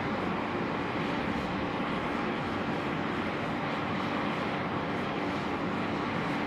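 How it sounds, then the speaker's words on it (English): A China Southern airliner bound for Guangzhou takes off from runway 34 left at Sydney Airport, its engines a constant, broad roar heard from a distance, unbroken throughout. "China Southern 5014 now off to Guangzhou. Is cleared for takeoff"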